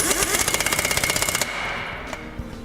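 A pneumatic air impact gun hammers rapidly as it tightens lug nuts, a loud fast rattling burst lasting over a second before cutting off, followed by faint clicks and handling noise.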